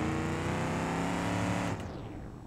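Burnside Special Lead Sled car engine in BeamNG.drive, a loud, steady harmonic drone with low rumble that cuts off sharply near the end, leaving a fainter tail.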